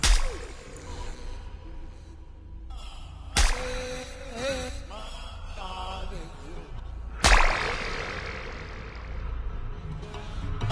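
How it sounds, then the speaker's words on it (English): Three sharp, cracking film slap sound effects spaced a few seconds apart, each ringing out with a lingering tail over a low backdrop. "Notice how the slap sound changes over time."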